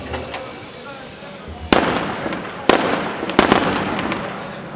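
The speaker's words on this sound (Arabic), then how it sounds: "قصف على بلدة كفر زيتي في ريف حماه." Barrel bomb blasts from shelling on the town of Kafr Zita in rural Hama, with three sharp explosions over a steady background rumble.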